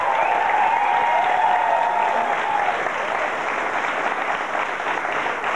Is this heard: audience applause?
yes